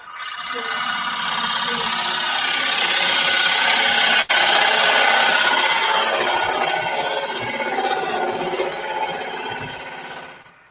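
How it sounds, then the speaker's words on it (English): Bowl gouge taking a gentle cut across spinning wood on a lathe, a loud continuous rasping scrape up close, briefly interrupted by a sharp click midway, then fading at the end. "Use your bowl gouge and take a cut down across it, all right? Very gently."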